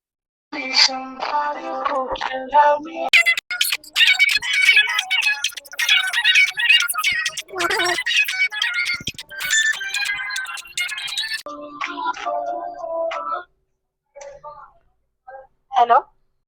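A phone ringtone plays during an outgoing call, a looping musical melody repeating loudly for most of the stretch before cutting out, followed by a few brief sounds and a short final tone.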